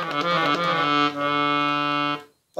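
Bassoon register of an Orion 2 accordion, voiced to imitate a broken soundboard, holds one sustained buzzy chord for about two seconds with a brief dip in the middle, then stops.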